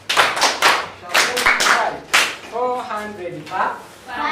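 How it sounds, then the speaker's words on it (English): Schoolchildren in a classroom clap for a classmate who has written on the blackboard, several sharp rhythmic handclaps up front followed by voices chanting or calling out together. "Yes, you clap for her."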